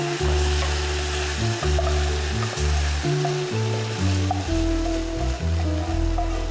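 Tamarind water poured into a hot pan hisses and sizzles loudly and steadily from start to finish, with low stirring and bubbling beneath it and no voices.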